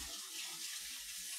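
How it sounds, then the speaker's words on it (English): A kitchen water tap runs into a sink as a utensil is rinsed after making sweet potato pancakes, a steady close hiss of flowing water with faint clinks underneath and no voices. "I'm going to go rinse this off"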